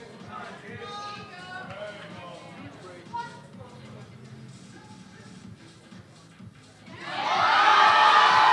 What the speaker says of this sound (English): You can just hear this crowd hyping on Jason.